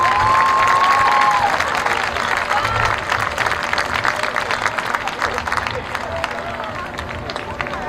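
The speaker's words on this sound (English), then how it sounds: "Let's give him another round of applause." Loud audience applause mixed with cheering and whoops from a crowd at a high school marching band premiere night, dense clapping that fades slightly toward the end, with a brief whistle-like tone near the start.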